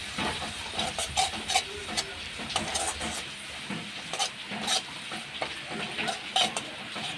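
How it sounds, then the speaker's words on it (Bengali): A spice mix of cumin, coriander and turmeric powders sizzles and hisses in a pan as it is stirred in, with repeated scraping strokes over continuous frying noise, close and fairly loud. "এবার এই মশলাটাকে দিয়ে আমি ভালো করে এর সাথে মিশিয়ে নিচ্ছি"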